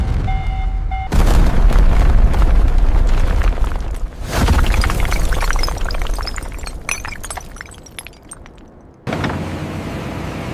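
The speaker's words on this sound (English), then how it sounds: "We are proceeding with the blast sequence now." A loud explosive blast in a diamond mine sounds as a deep rumbling boom that rolls on for several seconds, with crackling debris and shattering rock layered through it before cutting off.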